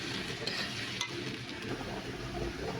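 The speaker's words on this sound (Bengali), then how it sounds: "এবার আলুটাকে আমি লাল করে ভেজে নেব" Sliced potatoes fry in hot oil for a fish-free curry with mutton and pointed gourd, a steady close sizzle broken by a couple of soft stirring knocks against the pan.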